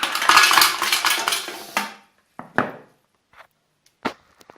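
Ice cubes rattle and clatter hard inside a crushing appliance being shaken, a dense rough burst for about two seconds, then a few isolated sharp knocks separated by silence.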